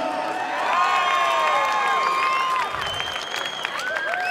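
A large crowd at an Island Fights 68 combat sports event roars with sustained applause, cheering and shrill whoops and whistles, loud and continuous throughout.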